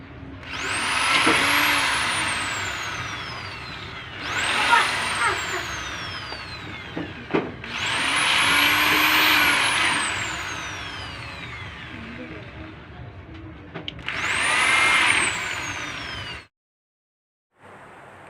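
Electric household drill boring a hole into an electric motor during alteration work, in four loud whining bursts that rise and fall in pitch with short pauses between, up close, with no talk.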